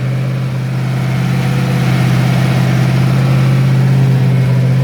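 A big Ford 302 Windsor V8 engine idles loudly and steadily up close, a deep rumbling burble that holds constant throughout.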